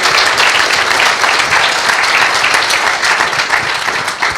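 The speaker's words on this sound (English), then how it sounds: "You can make any applause, what you want." Loud, sustained applause from a conference audience thanking an email deliverability expert panel, a dense wash of many hands clapping without a break for over four seconds.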